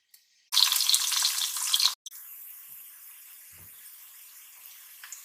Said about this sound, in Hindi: इसके अंदर डालेंगे प्याज और इनको